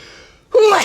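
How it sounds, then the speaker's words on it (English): A single sudden sneeze bursts out close and loud after a brief quiet intake of breath, from a person outdoors on a birding trip at RSPB Otmoor. "I think I'm going to sneeze."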